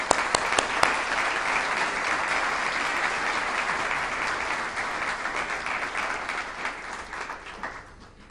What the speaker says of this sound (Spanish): Un aplauso para el doctor Sarmiento.